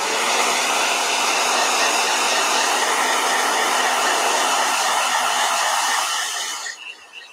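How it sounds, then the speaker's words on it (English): A blow dryer runs close and loud as a steady, even whoosh for several seconds before switching off and winding down. "All right, blow dryer."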